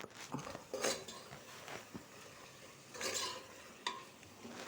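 Chicken pieces stirred and fried in a pan for chicken biryani, with soft sizzling and a few bursts of scraping stirring, close and fairly quiet, without speech.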